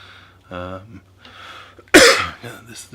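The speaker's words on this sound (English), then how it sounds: "This little cough just will not go away." A single sharp, loud cough bursts out after some quieter voiced sounds, followed by a short breathy tail.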